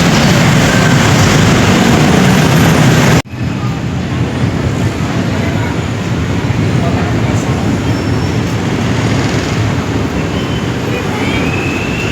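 A loud, steady rumble of an LRT train running near Recto station, with a sharp break near the start and continuous heavy roar afterward.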